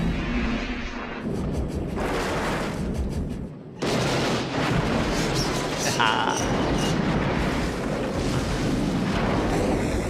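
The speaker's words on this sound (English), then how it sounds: "That's the explosion I woke up this morning to see." An explosion scene from the film Back to the Future Part III plays as a loud, sustained roaring rumble that dips briefly partway through, then surges back and holds at full strength.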